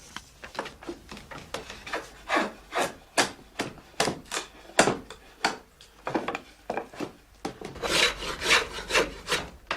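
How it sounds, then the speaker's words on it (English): Hurley staves of wood being rough-dressed with a drawknife on a shaving horse, where a foot-operated bar works the clamp: a steady run of loud, close rasping strokes in irregular bursts. "He finishes the rough dressing of the staves on the mare."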